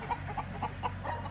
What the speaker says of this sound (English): he's got a pretty interesting little chicken set up here